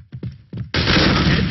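Gunfire in the shooter game Point Blank: a few sharp separate shots crack out, then a loud sustained burst of rapid fire takes over, dense and close.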